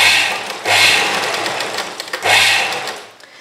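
A sewing machine stitches three sides of a collar in two loud close bursts of fast, buzzing needle strokes separated by short pauses, with no voices.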